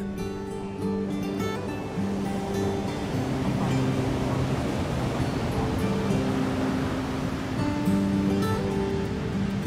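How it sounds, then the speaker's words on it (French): Ocean waves on the Basque coast near Biarritz roll and wash in a steady, continuous roar, with faint tonal hums from boats or engines running under the surf. "la force des vagues"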